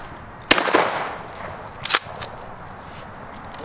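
Two sharp reports from a Remington 870 12 gauge shotgun fired at clays outdoors, spaced about a second and a half apart, each cracking loudly and trailing off into a faint echo.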